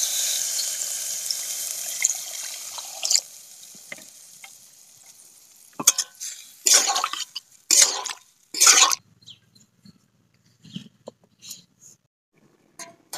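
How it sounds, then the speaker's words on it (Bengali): Water added to a hot pan while cooking a cauliflower and egg dish, giving a fading sizzle followed by several loud bursts of splashing and hissing, then scattered light clinks. "এখন আমি জল দিয়ে দিব।"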